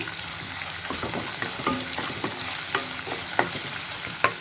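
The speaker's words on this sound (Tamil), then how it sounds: "பச்சை வாசனை போகிற வரைக்கும் நல்லா வதக்கிக்கோங்க." Crushed ginger and garlic sautéing in a hot pan, a steady close sizzle with a spatula stirring and scraping and occasional sharp clinks against the pan, no talk.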